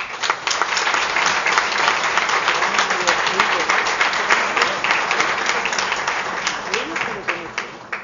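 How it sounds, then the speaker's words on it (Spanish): Town council audience applauding a former first mayor at a mayoral investiture ceremony in a Spanish town hall, steady crowd applause throughout, fairly loud and continuous, with some voices underneath. "me vaya a permitir que aplaudamos a Antonio García Molinero, que fue el primer alcalde."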